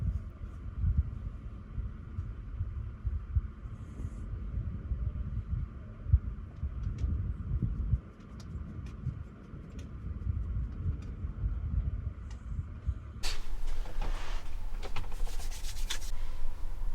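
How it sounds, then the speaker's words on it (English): Strong 50 to 60 mph winds buffet and rock a parked van on Hatteras Island, a steady low rumbling roar with creaks and thumps, swelling into a broader hissing gust near the end. "We woke up to 50 to 60 mile an hour winds outside"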